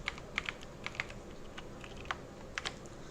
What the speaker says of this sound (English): Once I finish typing 2 instructions, then I will go to file and click on save.